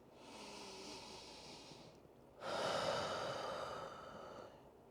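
Slow, deep breathing during a relaxed chair yoga session: one long, soft airy breath, a brief pause, then a fuller and louder breath that fades gradually, with no talking.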